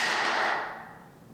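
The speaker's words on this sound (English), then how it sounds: "I'm gonna shoot in a little brad nail" A brad nailer fires a single nail into ceiling trim: one sharp, close hit that decays quickly into a short fading tail.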